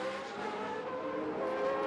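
FIA GT race cars run through the dogleg section of the Baku street circuit, their engines a sustained whining drone that swells slightly near the end.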